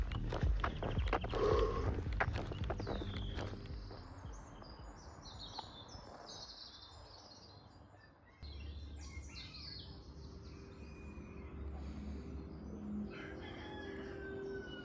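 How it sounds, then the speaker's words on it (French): Hens and a rooster at a campsite in Mancier, with a loud rooster crow near the start, clucking through the rest and other birds calling, no talk. "Il n'y a plus que moi et les poules dans le camping de Mancier."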